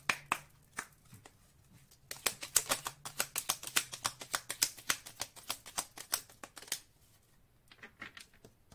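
Oracle message cards are shuffled and drawn from a deck, giving a rapid run of crisp close flicking and tapping clicks, with quieter scattered taps before and after.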